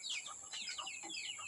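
Chickens cluck softly in quick, repeated calls over a steady high-pitched background hum.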